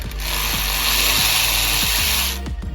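A power tool runs steadily and loudly, backing out the bolts on an automatic transmission oil pan, with a few faint rhythmic clicks beneath the continuous whir and a brief tail-off at the end.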